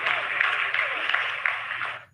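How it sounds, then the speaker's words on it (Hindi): ISRO scientists in a mission control room applaud after the Chandrayaan-3 lunar descent phase completes, a dense sustained roar of many hands clapping at once, steady and loud for about two seconds before it cuts off. "आप इस तालियों के गड़गड़ाहट को सुन सकते हैं"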